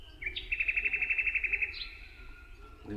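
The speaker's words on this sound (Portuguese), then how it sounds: "O canto dos pássaros" Songbirds sing in a natural setting, one bird giving a clear, rapid run of repeated high chirps that trills, pauses and resumes nearby, with no voices over it.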